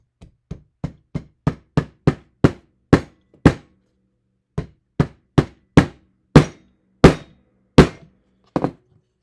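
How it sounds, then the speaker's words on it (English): Sharp, evenly spaced hammer blows drive a staple in while making a stock whip, about twenty strikes in all, with a short pause midway before the pounding resumes, close and loud. "And hammer that staple in there."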